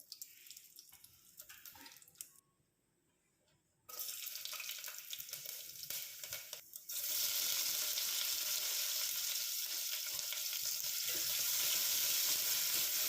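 Onion, garlic and tomato sauté in oil in a pressure cooker. Faint clatter and a near-silent pause give way to sizzling, which swells at about seven seconds into a loud, steady hiss that continues to the end.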